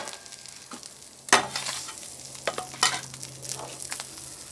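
A brisket sandwich with cream cheese and jalapeños heating on a flat griddle: a soft background sizzle broken by a loud scraping clatter, then several quieter spatula scrapes and taps, close and without speech.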